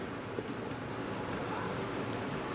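Chalk or marker scratching across a classroom board while a sentence and a comma are written during a spoken English grammar lesson, a steady close scraping for a few seconds with no talk.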